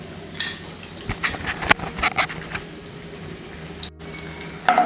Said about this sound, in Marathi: आता इथं आपलं तूप तापलंय, मी थोडा थोडा करून डिंक घालून घेते।